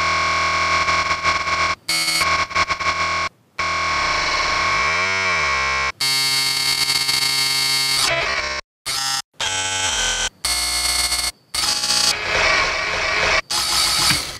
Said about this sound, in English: So that's a load of different granular stuff just in a big long sequence